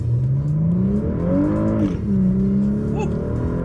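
Cadillac CTS Vsport with a Trifecta tune, in sport mode with traction control off, accelerating hard on an open road. A loud, steady engine note climbs in pitch, dips briefly at a shift, then rises again.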